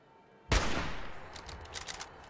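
A single sniper rifle shot in Fallout 4, a sharp, loud crack followed by a long, rolling decay with faint clatter as it fades.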